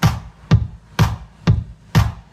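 A Roland TR-8 drum machine loop alternating punchy kicks and sharp claps in a steady, even pattern, about two hits per second, loud and dry.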